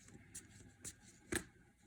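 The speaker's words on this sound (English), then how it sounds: "I'm going to shuffle this a bit and set the intention" A Chakra Wisdom tarot deck being shuffled by hand, three quick soft riffles spaced apart against a quiet room, close but faint.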